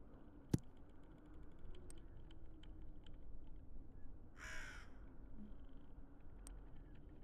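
A crow caws once in the puzzle game Tick Tock: A Tale for Two, a short burst in the middle over a steady low hum and scattered faint clicks.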